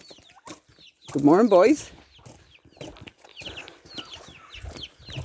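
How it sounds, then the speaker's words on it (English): Chickens cluck on a farm in the morning, a loud nearby squawk followed by repeated softer clucks and chirps while a person speaks a short greeting. "The chickens are doing their thing."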